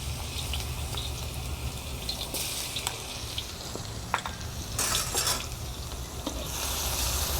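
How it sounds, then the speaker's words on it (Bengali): Crushed garlic frying lightly in oil in a home kitchen while a bitter gourd curry is being made, giving a steady soft sizzle with occasional stirring scrapes and brief bursts of louder crackle, close and without talk. "রসুনটাকে হালকা ভেজে নেব যাতে রসুনের একটা কাঁচা গন্ধ আছে সেই কাঁচা গন্ধটা চলে যায়"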